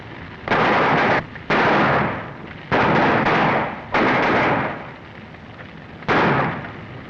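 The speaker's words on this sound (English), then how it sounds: "Still shooting at their backs, eh?" Gunfire in a 1935 western film: several loud, close bursts of rapid shots about a second long each, separated by short pauses and echoing over a steady background, with no talk.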